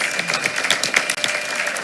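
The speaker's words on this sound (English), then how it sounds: "let's give her one more round of applause" Audience applause at a Tyler ISD school board meeting: a brief, busy patter of many hands clapping at moderate volume, with a short dip in the middle.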